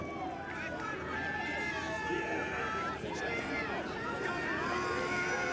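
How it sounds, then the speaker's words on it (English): Crowd at a Parkland vs. Easton District XI 3A high school lacrosse championship game cheers and shouts steadily throughout, a loud sustained roar with whistling and yelling voices close by. "I can actually feel the vibrations from the crowd right now"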